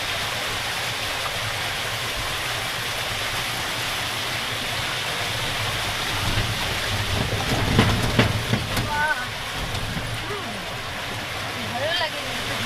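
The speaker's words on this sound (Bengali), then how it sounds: "টোটো নামক একটি লঞ্চে করে আমরা এখন মায়াপুর যাচ্ছি" A motor launch crossing flood water on the way to Mayapur, its engine a constant loud broadband roar mixed with rushing water, steady throughout, with people's voices faintly underneath.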